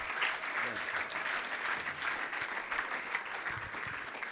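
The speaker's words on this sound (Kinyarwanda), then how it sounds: "dukomere imana amashyi" A church congregation claps steadily together during a worship service, dense continuous applause filling the room from start to finish with no break.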